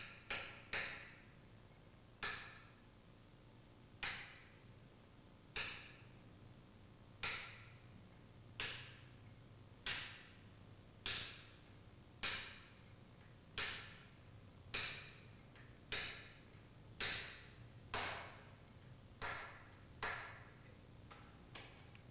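A caulking chisel lightly taps the inner race of a ball bearing during a purifier overhaul. Sharp metallic taps come alone at a steady, unhurried pace, roughly one every second or so, about eighteen in all, close and moderately loud.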